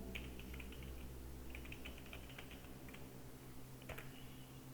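Quick bursts of typing on a Linux computer keyboard as a GitHub username is entered, soft close key clicks in short runs separated by brief pauses over a low hum.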